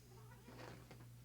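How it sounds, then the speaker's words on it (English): A house cat gives a short, faint meow indoors, a single soft call over a steady low background hum, with no voices. "Say hello to my cat."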